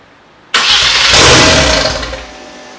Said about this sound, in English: manually turn on our ignition and turn on our injector power